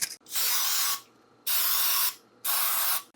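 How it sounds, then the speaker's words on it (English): Baker's Joy baking spray hisses onto a baking pan in three sharp, close bursts with short pauses between them. "I'm going to spray this with some baker spray to make it easier to come out later."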